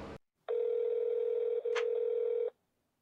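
A wall-mounted telephone in a Roblox horror game gives off a steady electronic dial tone lasting about two seconds, loud and close, with a brief blip partway through and silence around it.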